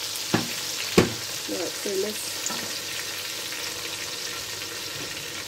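Food sizzles steadily in a pan while a spoon knocks and scrapes, making a few sharp clanks early on as it is stirred, for a Senegalese dish; a voice speaks briefly.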